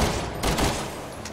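Rapid gunfire from Resident Evil 6 gameplay, a dense burst of shots that stays loud and continuous through the short stretch with no pause.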